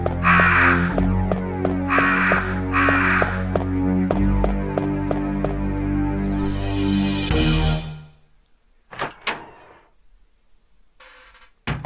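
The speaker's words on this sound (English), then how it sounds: "Thanks for not killing me, crows." Crows cawing in the video game Resident Evil: Code Veronica, a series of loud, evenly spaced harsh caws over a droning game music bed, which cuts off near the end and leaves faint scattered noises.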